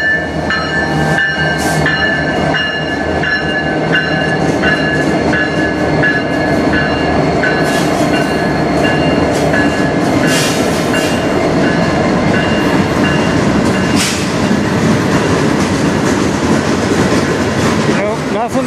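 A CN freight train rolls past on the Strathroy Subdivision, loud and steady throughout, with continuous rumbling wheels, rhythmic clickety-clack over rail joints and occasional high metallic squeals.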